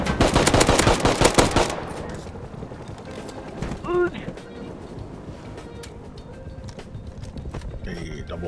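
Rifle gunfire in the survival game Rust: a dense burst of loud, rapid shots fills the first couple of seconds, then quieter game ambience with a brief tonal effect and distant activity, while people talk over it.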